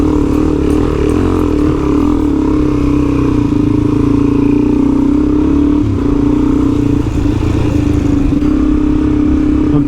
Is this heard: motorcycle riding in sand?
yes